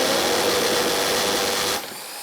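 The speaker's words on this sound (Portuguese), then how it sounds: "vamos fazer mais um furo agora com o limitador." A power drill fitted with a depth stop bores into a hollow wall, giving a loud, close, steady whine with grinding texture for nearly two seconds, then drops abruptly to a softer spin-down.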